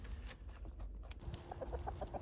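Hens cluck softly in short bursts, with a rooster's low murmuring among them, at moderate distance over faint background noise.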